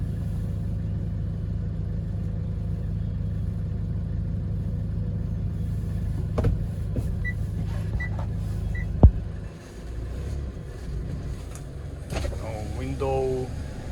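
A 2019 Hyundai Porter 2 refrigerated truck on a test drive, a steady low engine and road rumble from inside the cab, with a few clicks and knocks and some brief talk near the end.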